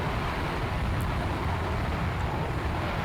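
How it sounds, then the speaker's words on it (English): Aircraft engines roar in the naval combat game Sea Power, a steady, loud, broadband drone that holds evenly throughout without changing. "And goddamn, those engines are loud."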